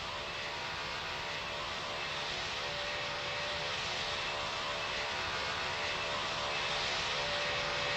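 Steady droning jet engine roar of an Emirates airliner on approach to land in the Roblox game Pilot Training Flight Simulator, loud and unbroken with no talking.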